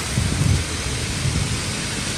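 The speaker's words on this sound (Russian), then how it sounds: "Видите, дождь льет." Heavy rain pours down steadily outdoors, a dense continuous hiss with soft low rumbles underneath and no break in the sound.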